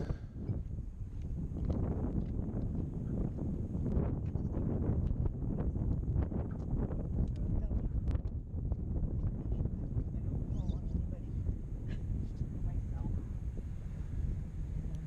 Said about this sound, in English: I left the sound up so you can hear how windy it is